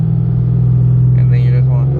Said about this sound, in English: just give it a little bit of gas, like this